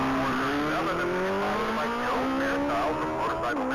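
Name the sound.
race car launching off the starting line at Texas Mile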